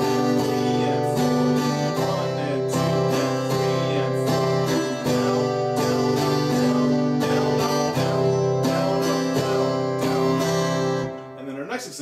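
Guitar strummed in a steady pattern of quarter notes and eighth-note pairs, bright chords ringing clearly at close range with distinct rhythmic attacks, no voice over it.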